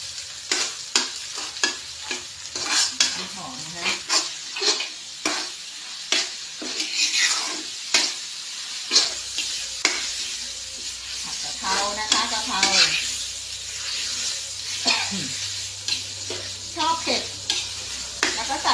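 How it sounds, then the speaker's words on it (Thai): Chili and holy basil stir-fried in a pan with only a little oil: rapid scraping and clacking strokes of a spatula over a steady sizzle, close and busy throughout. "ผัดแห้งๆ แต่ว่าถ้าเราอยากจะแบบ น้ำมันใส่ไม่เยอะนะคะเพื่อนๆแล้วไม่ใส่น้ำมันนิดเดียวเลยนะ รวมพริกก่อนนะ"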